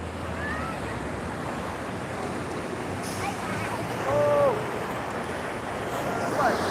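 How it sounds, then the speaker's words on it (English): Ocean surf at Waikiki Beach, Hawaii, rolls in as a steady broadband wash with a slightly louder swell near the end, with some wind noise across the microphone. "the waves are just now coming up"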